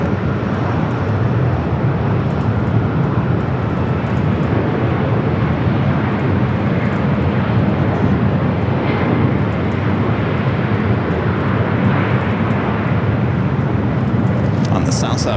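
A Delta airliner, flight 799, rolls for takeoff on runway 24 left at LAX, a loud, steady broadband jet roar that holds throughout with little change.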